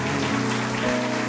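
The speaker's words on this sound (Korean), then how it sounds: "우리 하나님 앞에 감사와 영광의 박수 한번 더 올려주시면 좋겠습니다" A church congregation claps in a short, dense burst of applause that sounds like rain, loud and close, with a faint sustained tone underneath.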